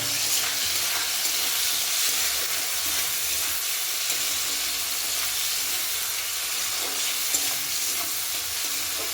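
Raw peas frying in oil with chopped tomato and salt for a vegetarian cabbage dish sizzle continuously, with faint pops and stirring scrapes in the pan.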